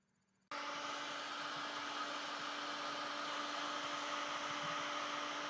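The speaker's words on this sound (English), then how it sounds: "To insulate the connections, I've used some heat shrink tubing." Heat shrink tubing is shrunk over wire connections. A steady blowing whir like a hair dryer switches on abruptly after a half-second of quiet and runs at a constant level to the end, with no speech.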